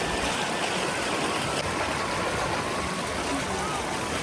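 Rainwater rushes as a full stream through Robbers Cave in Dehradun, a constant broad wash of flowing water close by, steady and unbroken throughout.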